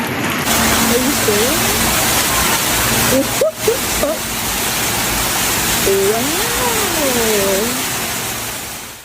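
Floodwater rushes loudly and steadily through flooded New York streets among cars, a dense broadband roar with an engine and a horn-like tone rising and falling over it, while a voice talks briefly.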